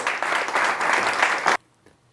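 Conference attendees give a dense round of applause that carries on for about a second and a half, then cuts off abruptly into near silence.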